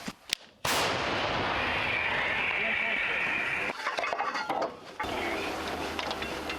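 A howitzer fires: a loud, sharp blast abruptly hits and gives way to a long, roaring rumble outdoors, followed by a quieter stretch and more distant noise.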